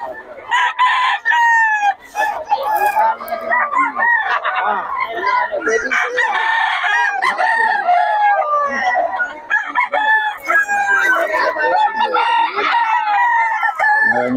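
Several roosters crow over and over, loud and overlapping, with clucking hens and a busy farmyard chorus running throughout, at a market in Bocaue, Philippines.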